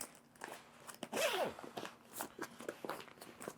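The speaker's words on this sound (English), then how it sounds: "You take the expansion zipper, which is right here, and you just unzip all the way around." A Peak Design backpack, a Huckberry collaboration 30L Xpac travel pack, has its expansion zipper pulled open all the way around, giving close, scratchy ratcheting rasps in quick uneven bursts with faint handling noise.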